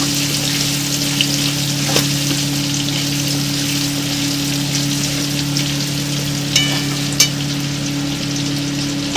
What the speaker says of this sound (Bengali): তেলটাকে ভালো করে ভেজে নিয়েছি